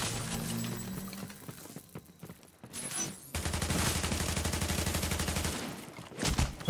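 Sustained rapid turret gunfire in The Division during a chaotic rogue fight, a loud steady burst of rhythmic shots lasting several seconds after scattered earlier shots and effects, with no talk.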